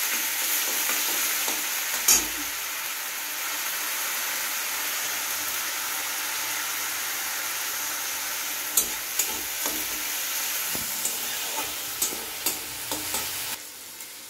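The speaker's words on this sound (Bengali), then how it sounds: "পেঁয়াজ বাটাটা একটু দিয়ে দিলাম। পেঁয়াজটা ভাজা ভাজা হোক।" Onion paste frying in a pan over lowered heat for a ghugni with peas, potato and paneer, a loud continuous sizzle with a few scraping stirs near the start and a run of quick scrapes toward the end.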